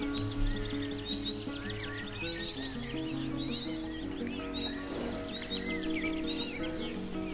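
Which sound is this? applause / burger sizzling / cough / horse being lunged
horse being lunged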